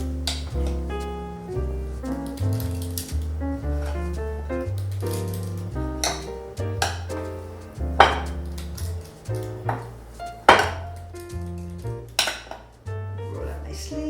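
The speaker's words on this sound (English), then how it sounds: "I'll scoop some in the walnuts." Walnuts scooped into a mixing bowl, a series of clinks and knocks of utensil against bowl at irregular intervals, close, heard alongside background music.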